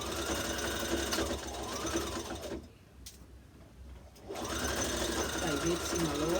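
A sewing machine stitches the back seam of a jumpsuit in two bursts of rapid mechanical whirring, separated by a short pause, with a voice talking over it.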